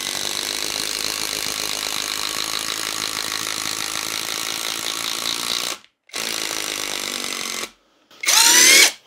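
A PROFIPOWER cordless screwdriver driving a self-tapping screw, its motor whirring loudly and steadily for about six seconds, then a short pause, another brief run and a sharp high-pitched whine at the end.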